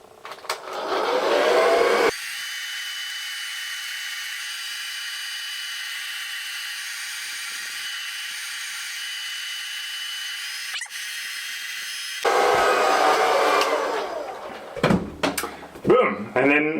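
A hair dryer on a hot, low setting, then switched to its cool function, blows steadily for about ten seconds as it sets mustache wax, with someone talking briefly before and after and handling noises at the end.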